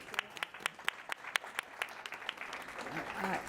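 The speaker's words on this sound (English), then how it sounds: "I think that deserves a round of applause" A small audience at an anniversary event applauds, a handful of sharp separate claps in an uneven rhythm, close and moderately quiet, thinning out as a voice begins speaking near the end.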